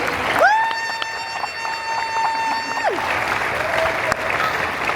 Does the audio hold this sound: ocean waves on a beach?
no